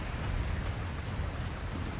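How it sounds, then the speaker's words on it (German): Heavy rain in Resident Evil 4 DLC, a steady dense hiss of downpour with a low rumbling undertone, constant and fairly loud throughout with no talking. "Stimmt, es kommt dieser starke Regen."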